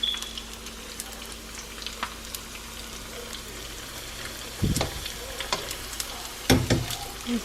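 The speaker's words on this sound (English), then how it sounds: "Let's fry one more in there." Shrimp egg rolls frying in oil on low heat, a steady soft sizzle with two brief louder bursts of crackling as pieces are stirred or added.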